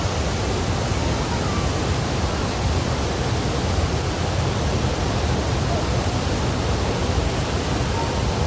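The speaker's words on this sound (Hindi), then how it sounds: "ऊपर से पहाड़ों से भी पानी आ रहा है" Water comes down from the mountains as a loud, steady broadband rush with no breaks, like a nearby cascade or torrent.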